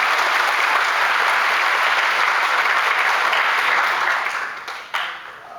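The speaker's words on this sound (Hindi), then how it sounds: "एक बार जबरदस्त ताली से आप ऑर्गेनाइजिंग कमेटी के लिए।" Loud, dense applause from an audience at a career counselling event in Darbhanga, honoring the organizing committee, sustained clapping that tapers off near the end, no voices over it.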